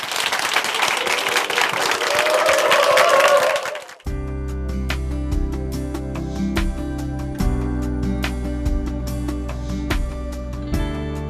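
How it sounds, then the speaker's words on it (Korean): An audience at a church program applauds to welcome someone speaker, with about four seconds of dense clapping that cuts off abruptly as gentle instrumental music takes over. "춘천 한마음교회 김영애 자매님 박수로 모시겠습니다."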